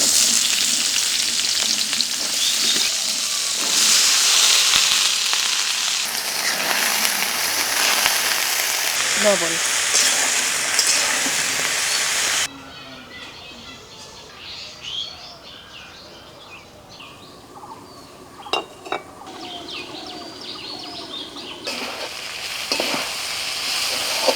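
Washed yardlong beans with a pinch of cumin hiss and sizzle in hot oil in a village kitchen, loud at first, then dropping to a quieter crackle with faint stirring and birds chirping in the background.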